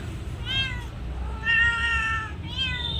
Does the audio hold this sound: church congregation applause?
no